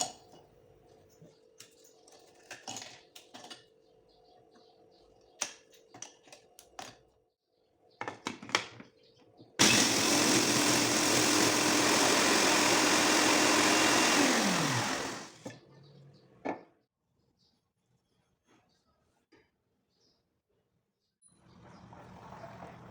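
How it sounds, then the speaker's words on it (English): A food processor whirs loudly for about six seconds as it crushes biscuits, with clinks and handling knocks before and after the steady grinding roar. "First, you crush the biscuit using a food processor."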